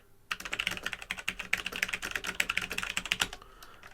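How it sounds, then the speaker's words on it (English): Rapid, uneven keystrokes clatter on a Logitech G413 Carbon mechanical keyboard with tall keys, a dense run of close, crisp clicks for about three seconds before trailing off. "Let's try typing again."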